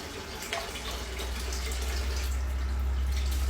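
Hot water runs steadily from a sink tap while eggplants are washed, a continuous broadband rush with a low rumble that grows slightly louder over a few seconds, no talking.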